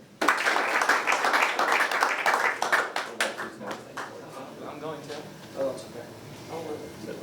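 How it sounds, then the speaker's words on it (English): Burst of clapping from a crowd at a university sports end-of-season awards night, loud at first then thinning out over several seconds as a voice begins speaking. "he deserves a big round of applause"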